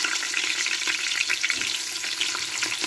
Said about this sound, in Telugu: సో ఉల్లిపాయలు మాత్రం ఇప్పుడు వేసేస్తున్నాము